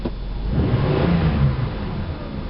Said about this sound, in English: There's your engine running, idling about 900 RPM.